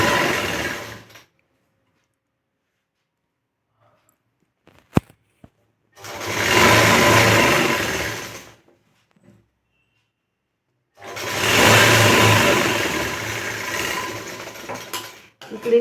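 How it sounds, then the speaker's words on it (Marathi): A sewing machine stitches the lower edge of a puff sleeve in three close, steady runs: a brief burst, a pause, then two longer stretches of whirring separated by silence. There is no talking. "आता इथं पहिल्यांदा ही खालची बाजू शिवून घ्यायची आपल्या स्लीवची"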